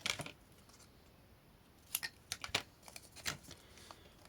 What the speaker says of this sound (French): Et on va venir couper.